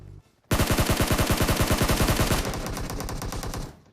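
Rapid automatic gunfire in PUBG, a loud sustained burst of evenly spaced shots lasting about three seconds, then fading, with no talk over it.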